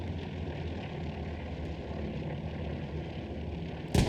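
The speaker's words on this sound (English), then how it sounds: "Just maybe a recon plane for the Allies." An Allied recon plane drones overhead in the World War II shooter Hell Let Loose, a steady propeller engine hum lasting throughout, ending in a brief louder burst.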